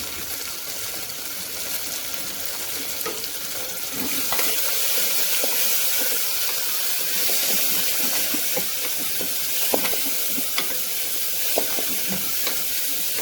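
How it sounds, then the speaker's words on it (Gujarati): Cabbage and vegetables sauté in hot oil for poha khichdi, a steady loud sizzle with occasional stirring clicks and scrapes, no talking. "કોબીજને પણ આપણે તેલમાં સારી રીતે સંતળાવા દઈશું"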